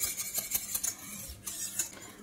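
A spoon stirs blackberry cream in a metal pot just off the heat, scraping and clinking against the sides in a steady, close rhythm with no talking.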